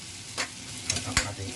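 Garlic and onion fry in a pan for a seafood medley, a low steady sizzle broken by three short scraping stirs of a utensil.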